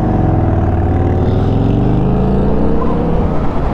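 A Harley-Davidson LiveWire electric motorcycle on a demo-day ride, its motor giving a loud, continuous whine that climbs in pitch under heavy wind rush, close and dominant throughout.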